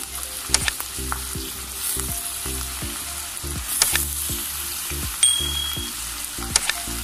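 Potatoes and carrots sizzling in a pan for chicken pulao, stirred with steady, rhythmic scraping strokes and a few sharp clinks against the pan, close and clear with no talking.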